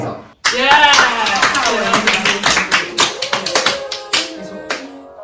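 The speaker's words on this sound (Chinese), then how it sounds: "来拍手" A small group of people clap their hands after an excited vocal cheer, with a quick, uneven run of sharp claps fading out near the close.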